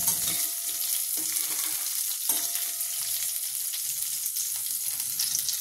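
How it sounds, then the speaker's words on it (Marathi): Curry leaves and green chillies sizzle steadily in hot oil in a pan, a continuous bright frying hiss with a couple of light metallic taps from stirring, close and with no voices. "छान परतवून घ्यायचं आहे तेलावर."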